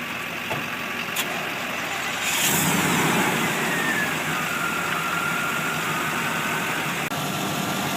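A vehicle engine idling after a jump start from a deeply discharged battery, a steady close hum that grows slightly louder and rougher partway through, with a few faint clicks.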